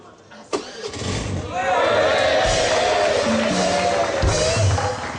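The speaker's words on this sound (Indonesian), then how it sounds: "Motor udah nyala." A motorcycle engine fires up after a sharp click and settles into a steady idle that runs on, loud and close, with people talking over it.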